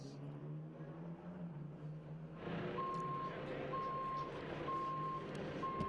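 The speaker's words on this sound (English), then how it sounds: "the saddest sound in the world is the beep of the JVC going backwards" A JCB vehicle reverses at a motor racing circuit, giving regular high-pitched reversing beeps over a low engine rumble, heard at a moderate distance.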